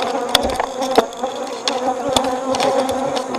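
Honey bees buzz busily around a beehive, a dense close swarm hum broken by sharp passing buzzes as individual bees fly near, with no talking.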